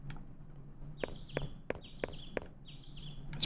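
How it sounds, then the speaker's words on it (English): Chirping birds in the PS1 dream game LSD Dream Emulator: a few short, bright tonal calls repeating at a steady pace over a low ambient hum, fairly soft and heard alone. "we can hear birds"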